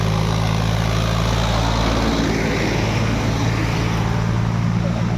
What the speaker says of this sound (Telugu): అండ్ నా బ్యాక్ సైడ్ ట్రాక్టర్ వస్తుంది